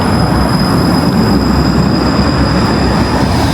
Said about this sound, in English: So this is a tram.